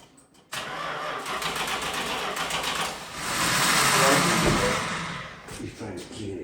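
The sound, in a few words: muscle car engine starting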